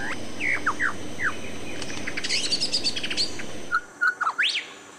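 A king bird-of-paradise from Papua gives a series of sharp, rising and falling whistled chirps, several short calls spaced apart over a soft background hiss, ending with a few clear notes alone.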